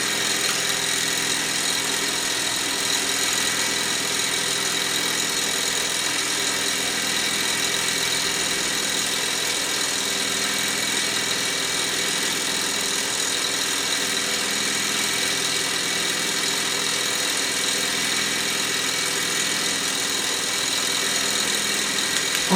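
Mamod showman's special toy steam traction engine running beside a Meccano Ferris wheel, a steady close hissing, chuffing drone that holds evenly throughout.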